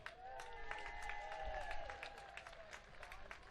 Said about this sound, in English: give a big cheer for the local man, Keith Shaw